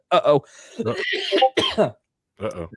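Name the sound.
dry cough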